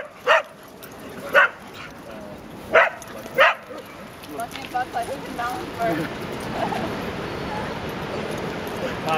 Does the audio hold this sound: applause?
no